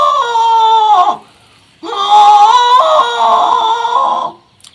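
A man imitates an elephant's call with two loud, high, trumpeting wails, each one sustained and wavering, separated by a short pause.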